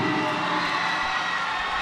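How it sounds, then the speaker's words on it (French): An audience at a French spelling bee final applauds a contestant, producing a dense, continuous wash of clapping and crowd noise at moderate volume. "on l'applaudit"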